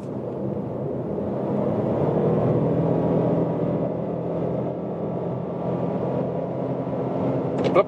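A 2024 Toyota Yaris Cross hybrid accelerating from 80 to 115 km/h, heard from inside as a steady, broad engine and road drone that holds level throughout with no talk.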